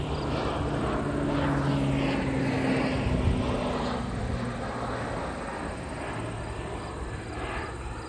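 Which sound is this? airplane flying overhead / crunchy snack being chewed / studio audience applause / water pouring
airplane flying overhead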